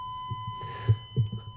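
A truck's warning chime sounding because the headlights were left on, a steady electronic tone held under low rumbling noise and faint bumps, with no talking.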